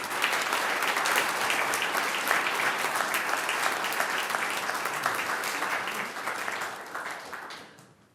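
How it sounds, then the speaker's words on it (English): Sustained applause from a large crowd, dense and steady for several seconds before fading out at the end. "Another round of applause for all of them,"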